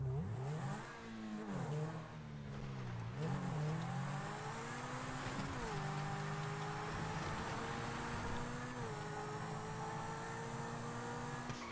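Engine of a stolen Lamborghini in GTA V, a steady close drone that revs up and eases back several times over about twelve seconds, with gear-shift dips in pitch and no talk.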